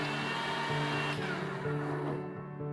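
A kitchen blender spins coriander leaves in one brief, steady motor whir that cuts off after a couple of seconds, moderately loud and close.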